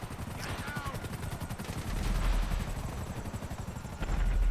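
GTA V helicopter mission gunfire, rapid automatic bursts rattling over the steady chop of helicopter rotors, loud and continuous throughout.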